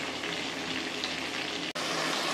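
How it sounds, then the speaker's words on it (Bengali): Steady, close sizzle of food frying in oil in a pan as it browns for a Bengali home-cooked dish, a continuous crackling hiss with one brief dropout near the end. "এবার এগুলো একটু লাল করে ভেজে নেব"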